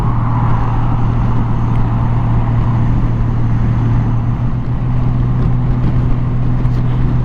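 A Honda Gold Wing GL1800 cruises on a motorway with a steady low engine drone and constant road and wind rush, loud and unbroken, with no voices.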